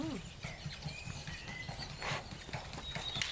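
Horse hooves clip-clopping in a quick, even two-beat rhythm of the flying pace gait, moderately distant, with outdoor ambience and faint voices around.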